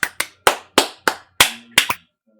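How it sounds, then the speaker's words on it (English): Eight sharp hand claps in a quick, slightly uneven rhythm, close and loud, with a brief doubled clap near the end, then silence. "I said clap"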